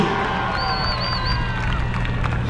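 A large outdoor crowd cheers and claps in a dense, continuous roar, with a few whistles rising above the noise.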